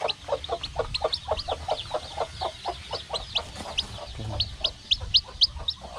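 Backyard village chickens clucking close by in rapid, repeated bursts, several birds overlapping in an irregular chatter over a low background hum, no one talking.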